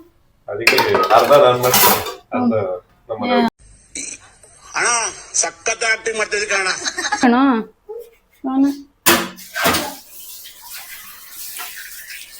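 Dishes, pots and utensils clatter in a home kitchen while people talk over the clinking.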